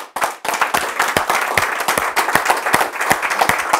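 Audience applause in a church service, a dense run of many hands clapping that starts abruptly and holds steady and fairly loud throughout.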